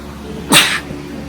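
A single sharp sneeze bursts out close by inside Hearst Castle, a quick breathy blast that fades within a quarter second over quiet room tone.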